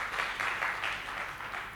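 A church congregation at a Sunday service claps for a volunteer, a soft, steady wash of many hands at a distance, brief and fairly faint.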